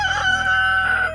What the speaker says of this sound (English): I have 3 roosters right here